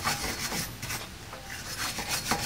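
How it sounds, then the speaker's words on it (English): A wire brush scrubs a car brake disc hub during a brake disc replacement, a dense, continuous scratchy rasp with short repeated strokes, close and fairly loud, with no talking. "Now I'm just going to give this a wire brush and put the new rotor on."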